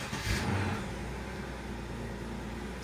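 A Subaru SVX engine starts with a brief cranking burst, then settles into a steady, close idle rumble.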